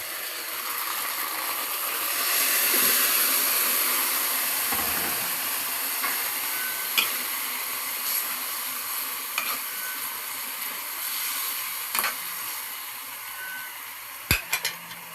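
Seasoned chicken liver with salt and pepper tipped into a hot pan, bursting into a steady sizzle that softens and continues, with a few scattered clicks and stirring knocks near the end.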